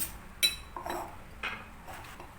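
Carrots are mixed in a bowl, with a few light, faint utensil clinks and scrapes spread across a short quiet stretch, one sharper clink near the start.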